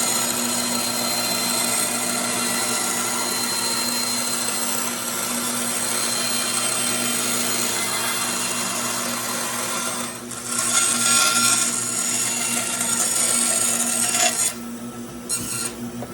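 A saw cuts through a plywood piece for a guitar pickguard, giving a steady, continuous rasping buzz that runs for several seconds, briefly grows louder and harsher, then drops away near the end.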